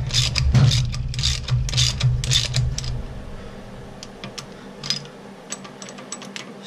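A ratchet cranks down a rocker nut while valve lash is set on a Mustang 289 engine: a run of quick, close clicking strokes in bursts, then fainter scattered clicks and taps as the work slows.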